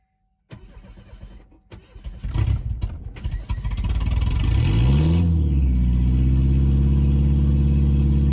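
An old car engine at an auto salvage yard cranks, catches and roars to life nearby, climbing through a few revs before settling into a loud, steady, rough idle.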